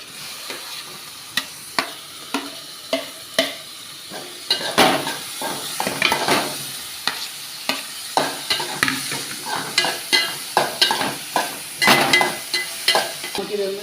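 Onions and tomatoes sizzle and fry in a pan for a Kerala chickpea curry, close and steady, with repeated stirring scrapes and clacks of a spoon against the pan and no talk.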